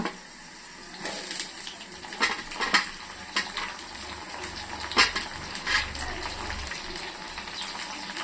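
Tomatoes cooking in a pan, a low sizzle of frying under intermittent scraping and clinking of a utensil stirring against the pan, several distinct knocks, close by and without talk.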